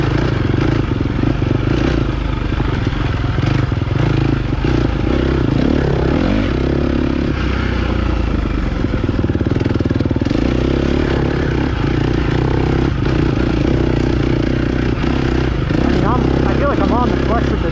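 A GasGas EX250F dirt bike engine drones steadily while it is ridden, with its pitch rising and falling as the throttle is worked, heard up close under continuous wind and riding noise.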